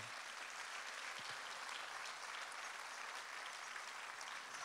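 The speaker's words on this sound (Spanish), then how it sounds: "¿por qué no se dan un aplauso, papás?" Quiet, steady applause from a church congregation during a Spanish-language sermon, continuous and evenly spread, heard from a distance.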